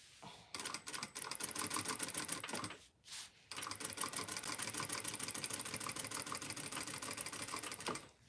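Clear thread runs through a sewing machine stitching a T-shirt quilt, a fast, even mechanical chatter that starts, pauses briefly and then runs on steadily close up, with no talking.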